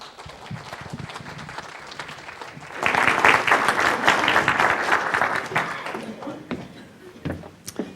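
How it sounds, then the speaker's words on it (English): An audience applauds, starting with scattered claps and swelling into fuller, louder applause midway before thinning out to a few claps, with some voices and movement around it. "Please give a rousing round of applause to greet this man"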